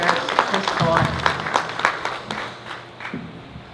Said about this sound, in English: Let's give Mr. Eric Okai a nice round of applause as he shares his thoughts